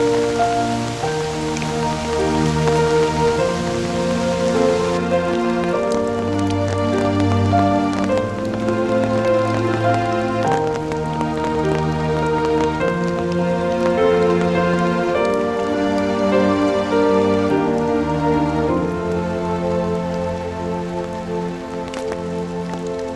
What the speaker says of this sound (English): Lucky I flew the drone quickly before this downpour of rain came.